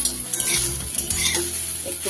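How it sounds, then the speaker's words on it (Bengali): Eggplant and taro pieces being stirred as they fry in a pan, a loud close sizzle with scraping and clinking of a utensil against the pan, no voices. "ভালো করে বেগুন আর কচুটাকে আমি নেড়ে নেব।"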